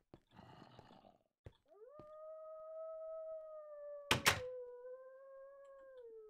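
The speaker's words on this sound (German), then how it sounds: "Wer quält den Hund?" Dog howling in the Minecraft video game, one long drawn-out howl that rises and then holds steady, preceded by a rough growl and interrupted by a couple of sharp clicks or knocks.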